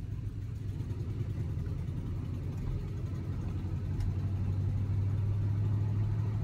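A car engine runs steadily after a cold start, a continuous low hum and rumble with no revving, heard close and fairly quiet with no voices.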